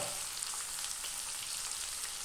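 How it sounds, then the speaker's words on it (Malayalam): Onions frying in a pan for an egg masala, a constant bright crackling sizzle held at an even level, close and unbroken until a sudden stop, with nobody talking. "ഉള്ളിയൊക്കെ ആവശ്യത്തിന് മൂത്ത് വന്നു"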